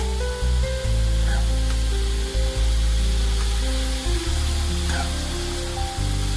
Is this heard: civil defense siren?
no